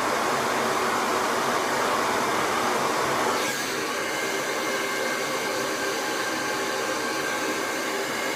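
A hair dryer blows steadily and loudly while hair is being blow-dried, a continuous broadband rush whose tone shifts slightly partway through as the airflow changes, with no talking.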